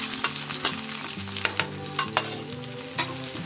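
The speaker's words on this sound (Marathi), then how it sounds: "त्यानंतर आपण कांदा घालून घेऊया" Sliced onion hits a hot pan with four or five crushed garlic cloves for a Marathi onion-papad chutney, giving a steady sizzle and frying crackle with clinks of stirring, all under tuneful background music.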